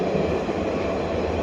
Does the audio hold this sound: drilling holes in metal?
no